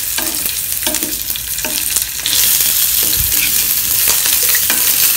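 Ginger, garlic and onion fry for a coconut chutney, a steady close sizzle in hot oil broken by repeated stirring scrapes, growing louder midway, with no talk.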